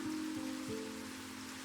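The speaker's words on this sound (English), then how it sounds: "Oh, it's raining." Steady rain pattering in the Minecraft video game, a continuous soft hiss with a low droning tone underneath, constant throughout and without any voices.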